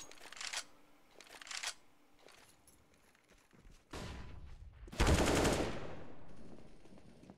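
Gunfire in a Counter-Strike match on the Overpass map: two short bursts, then a pause, then a louder sustained spray that trails into fainter shots.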